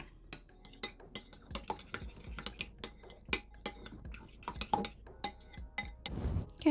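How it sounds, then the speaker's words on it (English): A spoon scrapes and clinks steadily against a bowl as a brown homemade hair treatment for dry, frizzy hair is stirred, producing rapid, close, repeated taps with no talking. "So you just mix this all together until the mixture becomes brown and uniform"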